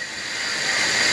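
Snakehead fish hits hot spiced mustard-style oil with a loud, close, steady hissing sizzle that swells slightly before a brief clink at the end.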